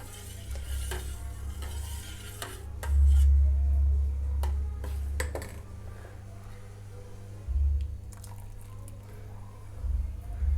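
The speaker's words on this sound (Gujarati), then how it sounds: "થોડું થોડું પાણી એડ કરતા જઈશું અને આ રીતે હલાવતા જઈશું।" Milk is stirred in a pot while lemon water is added bit by bit to make chenna, producing soft scraping stirs, light liquid splashes and occasional clinks against the pot, close and quiet.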